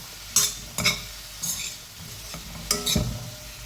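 Banana pieces are stirred into jaggery syrup in a pan, with a soft sizzle broken by several sharp scrapes and clacks of a spoon against the pan at uneven intervals.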